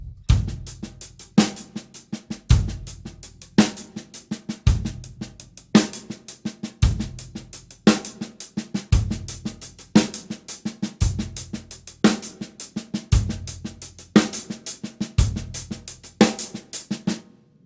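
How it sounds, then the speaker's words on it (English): A drum kit plays a rolling 6/8 groove, double paradiddles alternating between the hands over regular bass drum and snare downbeats, loud and close. "double paradiddles between the hands and a simple bass drum and snare drum downbeat in 6/8"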